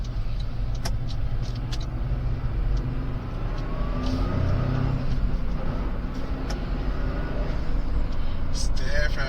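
Toyota GR Corolla cabin noise while driving, a steady low engine drone and road rumble filling the interior with mild swells of throttle, turbo pickup and blow-off valve hiss, moderately loud and continuous throughout.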